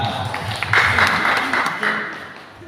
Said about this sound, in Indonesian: Ini tepuk tangan dulu.